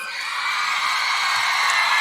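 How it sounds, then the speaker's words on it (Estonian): Concert audience at a band's show on its first Estonia tour in 2005 roars with sustained applause, cheering and whoops, a dense, steady crowd noise that stays loud throughout without a break. "palun tehke nii suur aplaus, kui te suudate"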